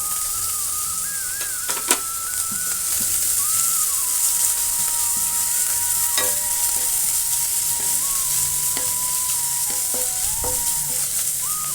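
Capsicum and mixed vegetables frying gently over low heat for quick veg fried rice, a continuous close sizzle with occasional light scrapes and taps of a spatula stirring the pan.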